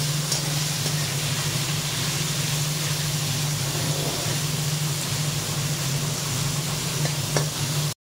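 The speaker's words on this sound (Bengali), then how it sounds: "এবার এটাতে আমরা এবার ভেজিটেবলটা দিয়ে দিচ্ছি দেখুন। এটাকে নিচে অবধি ভালো করে ভেজে নিচ্ছি" Mixed vegetables frying in hot ghee in a pan for veg fried rice, a steady dense sizzle that runs unbroken and close at moderate loudness, with no talk.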